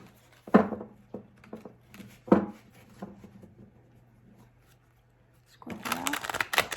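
Tarot cards being shuffled, a few separate riffles and rustles in a quiet room, soft and close, with a longer burst of shuffling at the end.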